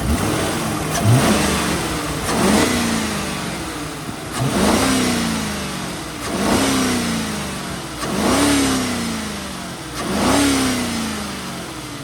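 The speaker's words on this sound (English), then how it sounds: "I like to be able to let you hear it at a higher RPM so you can hear how healthy and strong it sounds." A 2005 Lincoln Town Car Signature Series engine is revved repeatedly to higher RPM, six evenly spaced rising-and-falling surges, each climbing then settling back toward idle, close and clear with no talking.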